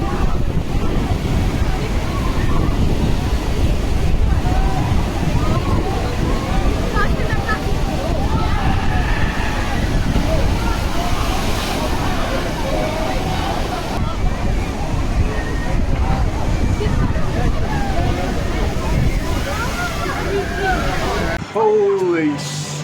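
Water sloshes and splashes continuously on the Stormforce 10 lifeboat-themed water ride at Drayton Manor, a loud roaring wash mixed with wind buffeting the microphone, with voices faintly under it.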